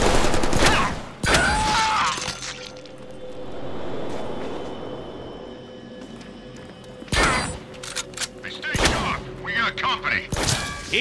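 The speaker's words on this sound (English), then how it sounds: "Cops are always blasting me with these things. Shotguns rock!" Shotgun blasts in the Deadpool video game, heavy booming shots in clusters at the start and again toward the end, separated by a quieter stretch of rumbling ambience, with a voice speaking between them.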